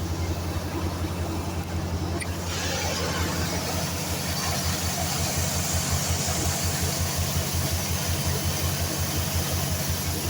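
A car engine idles steadily just after an alternator repair, a constant low rumbling drone heard close up that carries on without a break, with no one talking over it.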